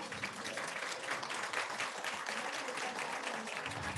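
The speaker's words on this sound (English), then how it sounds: "so let's give her a round of applause" An audience at a line-wide gathering claps for a fiddle player from Manitoba, dense, steady applause filling the room for several seconds, loud and close, with no talking over it.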